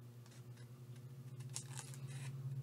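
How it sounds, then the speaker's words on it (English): Scissors trimming an offcut of recycled cracker-box paperboard, a soft, close run of snipping and crinkling for a couple of seconds. "Go ahead and trim that off."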